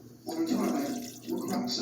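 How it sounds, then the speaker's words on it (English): Water is poured into a pot of pinto beans being cooked, with two short bursts of splashing and gurgling pouring, close by, separated by a brief pause. "Let me add a little bit more water."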